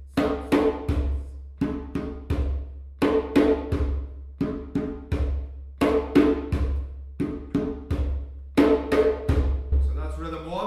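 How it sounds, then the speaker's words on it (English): A djembe plays a Kurubi rhythm of bass, tone, tone, bass, slap, slap, looped about five times at a steady pace, with close, sharp hand strikes over deep bass thumps and no talking. "The first rhythm is bass, tone, tone, bass, slap, slap, which goes like this."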